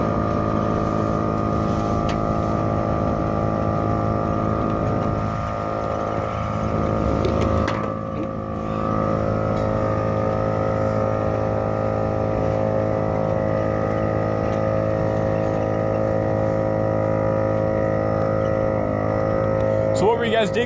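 A tank's engine rolling coal: a steady, loud, droning engine rumble with a strong even tone that dips briefly and then holds, and people talk faintly under it.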